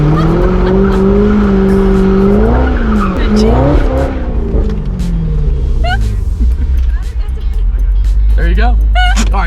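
A 640-horsepower Chevrolet Corvette ZR1 is driven hard, its engine revving and dropping while tires squeal in sharp bursts, loud and close, with people talking and exclaiming over it.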